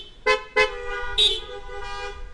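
Several car horns honk in short separate blasts, three quick toots followed by a longer fading horn tone.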